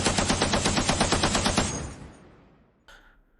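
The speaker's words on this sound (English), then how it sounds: "Italian gunfire rakes your ranks, and many of your fellow warriors fall." Rapid machine-gun fire rattles in a fast, even burst for about a second and a half, then trails off into a fading echo, with a short sharp crack near the end, as a battle effect.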